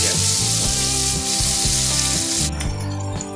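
Onions sautéing in a pan, a loud, close, constant sizzle with rhythmic stirring and scraping strokes and no voices.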